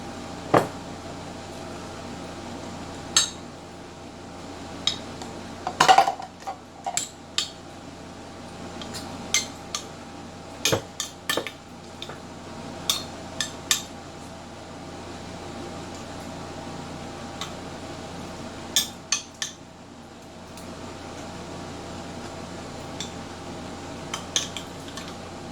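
Ricotta cheese scooped into a mixing bowl for manicotti filling, with scattered quiet clinks and taps of utensils against the bowl over a low steady background hum.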